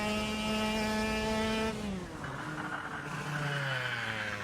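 A go-kart in the KartKraft racing game drives with a steady buzzing, high-revving engine whose pitch drops sharply as the kart slides, then climbs again through the slide.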